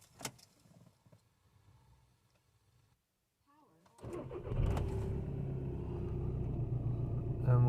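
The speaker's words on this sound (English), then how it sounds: "Now we're gonna start the car." A VW Golf GTD with a 2.0 TDI diesel engine, just fitted with a new fuel filter after a low fuel rail pressure fault, starts up. A few faint clicks and a quiet pause come first, then it cranks and settles into a steady, rumbling diesel idle.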